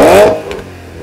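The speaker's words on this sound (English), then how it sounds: "This thing has a massive naturally aspirated V8, and it actually sounds pretty great." A naturally aspirated V8 car engine revs hard in a short burst near by, then drops back to a lower idle rumble.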